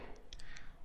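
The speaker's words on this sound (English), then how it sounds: "Click on this download button." A few quick, light computer mouse clicks on a download button, small and close against a quiet background with faint room noise.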